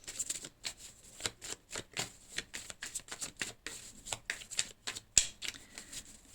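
A deck of tarot cards is cut and shuffled by hand, giving a quick rhythmic run of soft slaps and riffles, close and fairly faint, with one sharper snap near the end.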